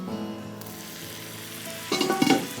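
Onions tipped into a hot pan for a Punjabi chana pulao or tawa boti, with a low steady sizzle that swells into a brief louder burst of frying near the end.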